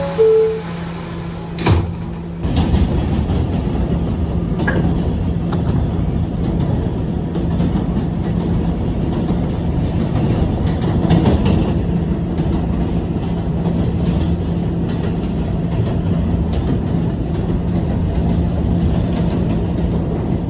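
A New York City R211 subway train on the A line near Howard Beach rumbles steadily along the tracks after a couple of door clunks, with a continuous roar and faint clatter from the rails.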